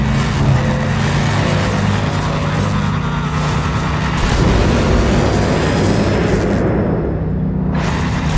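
Car engine in the Hot Wheels Unleashed racing game, a loud continuous engine drone and rev that swells mid-run, with a rushing roar that cuts out sharply near the end.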